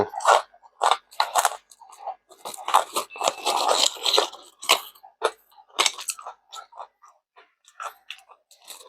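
Close, crisp crunching bites and chewing of a crunchy baked Thai sweet snack shaped like jackfruit, in irregular bursts of brittle cracks with a few brief pauses and no talking.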